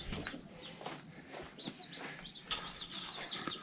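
Chickens and young chicks in a coop clucking and cheeping, a busy scatter of soft clucks and brighter peeps at close range, moderately quiet, with no talk.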